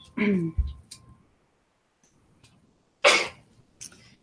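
A single sharp sneeze bursts out close by, followed by a quieter second burst a few seconds later amid soft clicks and faint room noise.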